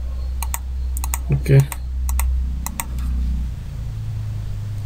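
Keystrokes on a computer keyboard tap out a short word in quick irregular bursts, close and clear, with a brief spoken interjection in the middle and a steady fan-like hum underneath.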